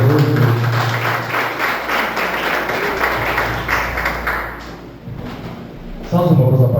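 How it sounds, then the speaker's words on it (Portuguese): Church congregation clapping to welcome the preacher at an evangelical service, a dense patter of handclaps for several seconds that fades near the end, with a voice speaking over and after it. "Receba Ele com as palmas bem alegre"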